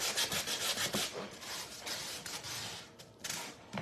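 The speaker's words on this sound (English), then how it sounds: "So I'm gonna see if I can sand down this color real quick" Glittery shimmer paint being sanded off a wooden piece, heard as steady, close rasping back-and-forth strokes that run continuously throughout.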